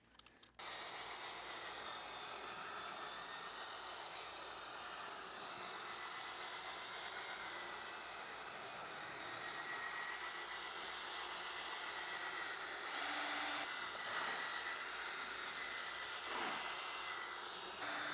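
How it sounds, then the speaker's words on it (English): A drill brush scrubbing car carpet during detailing, a steady faint motor whine with a brushing hiss running continuously, rising slightly near the end. "And then we use a drill brush."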